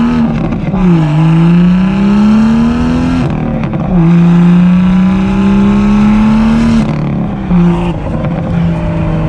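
A high-revving BMW M2 with a six-speed manual accelerates loudly through several gear shifts, pitch climbing then dropping at each change, close and continuous.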